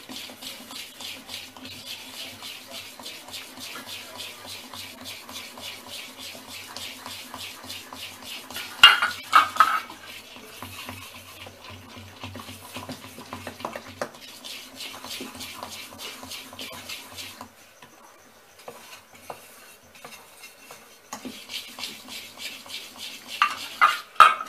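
Idli batter mixed with baking soda and salt is stirred in a bowl, giving a steady, rhythmic scraping and swishing that runs throughout, with a few sharper clinks of the spoon against the bowl near the middle and end.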